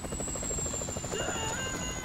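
A helicopter in the game GTA 5 drones steadily with a rapid rotor chop and a high whine throughout, heard alone without voices.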